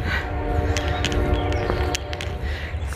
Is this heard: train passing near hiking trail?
yes